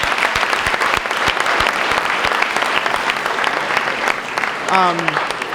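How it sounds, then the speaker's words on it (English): Banquet audience at a senior event applauds steadily in a dense, sustained patter of many hands, with a brief whistle or squeal near the end. "Can we give a round of applause for the faculty and staff of St. A's?"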